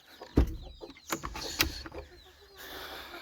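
Chickens cluck in short, scattered calls as their coop is opened, with a sharp knock near the start and a few louder clucks, fairly close and otherwise quiet.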